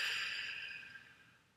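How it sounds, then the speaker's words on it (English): A single long, deep exhaled breath blown out slowly during a guided relaxation exercise, close and soft, fading steadily over about a second and a half. "And breathing in again. And blowing out."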